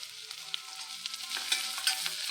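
Onion frying in a pan gives a steady, moderate sizzle with small pops and occasional stirring scrapes, heard close up with no talking.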